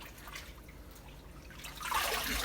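Running water splashes and trickles in a sink as freshly harvested lettuce is rinsed on a farm, a steady wash that grows louder and fuller toward the end.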